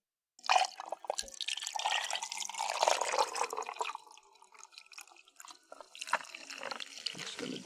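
Liquid pours in a steady splashing stream for several seconds, then trickles and drips more lightly, close by and fairly quiet.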